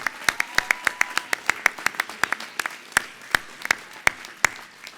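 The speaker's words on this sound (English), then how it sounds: "a great round of applause" Scattered, distinct claps from a graduation ceremony audience applauding graduating students, about two dozen sharp hand claps in an uneven, sparse rhythm over a few seconds, fairly close and moderately loud, with no talk over them.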